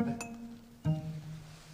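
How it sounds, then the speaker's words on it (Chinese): Glasses clink together in a celebratory toast at a gathering, one bright clink near the start and a second fuller clink about a second later, with a low background hum of the room. "为大宝早日能实现自己的理想，干杯"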